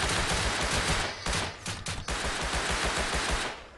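Loud, continuous gunfire in the game Rust, rapid overlapping shots that briefly thin out midway before the volley resumes and fades at the end.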